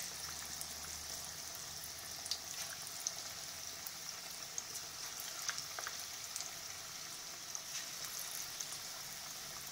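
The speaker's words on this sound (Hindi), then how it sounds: "हमारा तेल परफेक्ट गरम है। जितने आसानी से आ सकते हैं एक लॉट में, उतने हम डाल देंगे।" Moong dal pakodas (mangodes) frying in a batch in hot oil give a steady, even sizzle with scattered small pops, close up and alone, with no talking.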